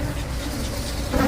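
Honeybee colony humming inside a hive, a dense, steady buzz that carries through the whole brief moment without pause.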